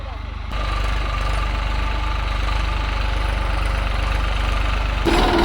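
A tractor engine chugs steadily at close range while plowing a wet field, a loud, even low rumble that starts abruptly and keeps running.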